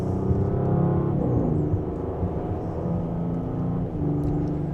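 A 2025 Audi S7 Premium Plus in dynamic mode pulls in second gear along a back road, a steady close engine drone with harmonics climbing and dipping as it gathers speed, with no talking.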